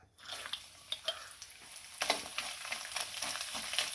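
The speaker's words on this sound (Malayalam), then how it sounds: "ഈ തേങ്ങാക്കൊത്തൊന്ന് വറുത്തെടുക്കാം" Steady crackling sizzle of coconut pieces frying in hot oil, with occasional scraping of a spatula, close and continuous with no voices.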